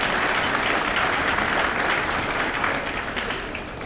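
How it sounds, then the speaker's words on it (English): A luncheon crowd at an innovators awards event gives a dense, loud round of applause that holds steady, then thins and fades slightly toward the end. "Give yourself a quick round of applause,"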